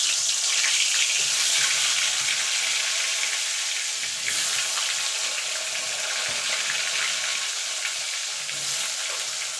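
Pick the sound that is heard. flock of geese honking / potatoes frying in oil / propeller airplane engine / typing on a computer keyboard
potatoes frying in oil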